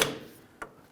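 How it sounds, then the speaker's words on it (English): The strut bolt on a 2011–2021 Jeep Grand Cherokee is tapped through: two sharp, brief metallic taps, fairly faint and spaced about half a second apart. "go ahead and tap that bolt through"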